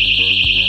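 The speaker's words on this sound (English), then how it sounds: "Designed for cycling, the smart alarm is motion activated." A Stingray motion-activated bicycle smart alarm sounds a piercing, steady electronic tone that pulses slightly, close and loud, over a brief moment.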